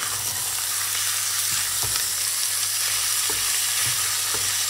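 Pork meat frying in a hot pan for pepper pork, a loud continuous close sizzle with occasional stirring knocks and scrapes, no talking.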